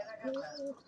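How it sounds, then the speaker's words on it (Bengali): Racing pigeons at a pigeon market in Sarulia, Demra, Dhaka give off soft, steady cooing in short overlapping tones, close and fairly quiet against faint background murmur. "এখানে দোকানে কত সুন্দর রেসার কবুতর"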